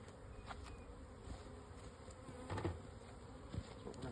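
Honey bees from a freshly installed package buzzing in a new hive, a faint, steady hum with a few louder passes of single bees close by, no speech.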